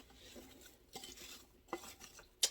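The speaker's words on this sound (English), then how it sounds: "Let's get that all stirred up." Potatoes being stirred into soup in a pot: a few quiet scrapes and clinks of a spoon against the pot, ending with one sharper knock.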